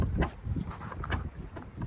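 Wind gusting on a boat out on Lake Texoma, a rough, buffeting rush that swells and fades in uneven bursts close to the microphone, with no voices.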